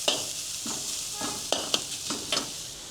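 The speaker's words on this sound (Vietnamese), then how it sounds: "Mình xào cho đến khi thịt và túng xôi trộn đều với nhau." Meat and preserved mustard greens being stir-fried in a pan: a soft steady sizzle broken by about six sharp scrapes and clacks of the spatula at an irregular pace, close and fairly quiet, with no talk.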